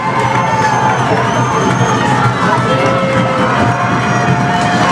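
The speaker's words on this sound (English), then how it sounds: "Mondovi crowd making a lot of noise right now on a big third down play for the Wildcats." Crowd noise at a WIAA high school football state semifinal, a dense continuous roar of the home stands during a big third-down play, loud and steady throughout with cheering mixed in.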